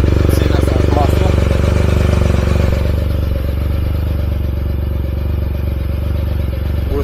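A Yamaha T-Max scooter engine chugs steadily at idle after an oil change, a loud, close, even rumble that continues without revving.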